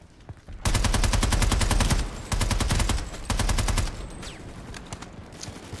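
Sustained automatic gunfire in Planetside Arena, loud rapid-fire bursts of evenly spaced shots, three long strings with short pauses between, followed by quieter scattered game sounds.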